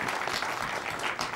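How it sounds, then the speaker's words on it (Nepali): A crowd claps loudly and continuously at a dance video song competition event, a dense, steady burst of applause with no talk. "एकचोटि जोरदार ताली मिस्टर झोले टिमको तर्फबाट यहाँहरूसँग"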